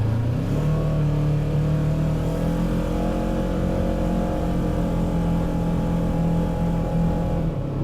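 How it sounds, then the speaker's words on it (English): Polaris RZR side-by-side engine on a mountain road in Montana's Beaverhead Mountains, a steady loud mid-pitched drone that holds throughout, rising slightly in revs near the start. "we're taking my RZR and Pat's Mule"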